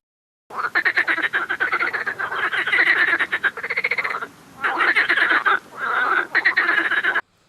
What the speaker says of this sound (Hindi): रात में जल स्रोतों जैसे पोखरों या तालाबों के पास मेंढकों को टर्राते हुए अवश्य सुना होगा